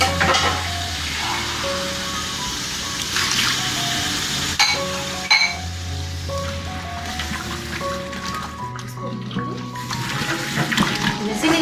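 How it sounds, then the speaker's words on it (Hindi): Water is poured into a hot pan of softening carrots for a mixed vegetable dish, giving a steady close hiss and splash that runs throughout with a few clinks of the pan. "मैं इसमें थोड़ा सा पानी ऐड करूँगी।"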